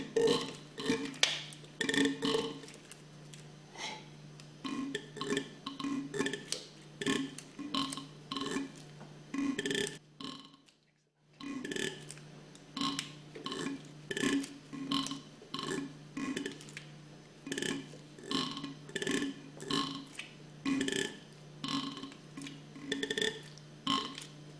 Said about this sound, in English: That sound is the valves working.